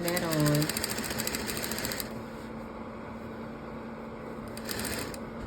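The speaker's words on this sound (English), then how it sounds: "we're just gonna keep sewing that on." A sewing machine stitches tulle onto a child's gown in a short run of fast, buzzing stitching that fades to quieter machine hum. A voice speaks over the start.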